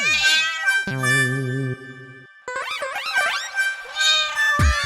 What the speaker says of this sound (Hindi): बिल्ली आ गई अंदर।